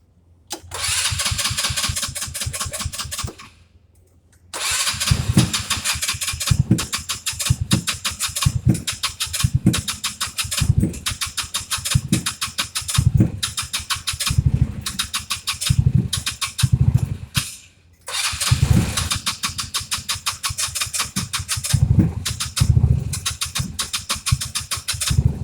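Engine on a shop start cranks and fires, then runs in rough, pulsing bursts as the gas is held floored, cutting out twice and catching again, loud and close throughout.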